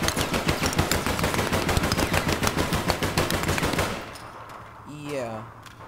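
Tech 5 rifle fired in the online shooter APB Reloaded, a loud sustained automatic burst of rapid shots lasting about four seconds, then ending in quieter game sounds.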